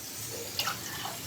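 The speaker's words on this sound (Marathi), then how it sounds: "थोडं गरम पाणी दिलं की पटकन शिजून येते" Hot water is poured into a pan of fried eggplant, potato and spices for a home-style curry. The splash is soft and fairly faint, with a low, steady trickle.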